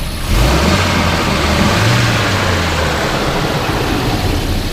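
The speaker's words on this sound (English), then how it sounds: "Go ahead and rev it up a little bit." A 1979 Volvo 242 engine revs up from a cold start, rising and falling in a couple of smooth throttle blips over a steady running drone, close and loud with no talking.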